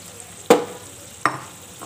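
Large red chilies go into a hot pan for sambal goreng, giving two sharp, brief bursts of sizzle and clatter half a second apart, followed by a faint third tap, with no talking.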